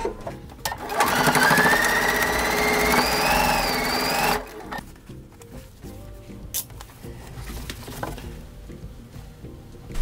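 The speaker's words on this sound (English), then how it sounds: "And now we can go sew our final seam." A sewing machine runs the final seam of a pinwheel quilt block, a loud, fast whirring hum for about four seconds that stops abruptly, followed by quieter handling noises and faint clicks.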